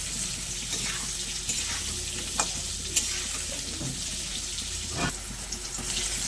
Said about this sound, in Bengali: আবারও ওই তেলের মধ্যে আমি কচিগুলো ভেজে নিচ্ছি বেগুনগুলোকে একটু লাল লাল করে ভেজে নেব